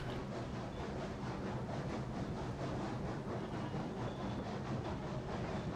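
A Cooke Mogul steam locomotive in Railroads Online hauls a long train of 16 cars up a grade on a sharp curve. It makes a steady, loud rumble with rhythmic rail clatter throughout, and no voices are heard.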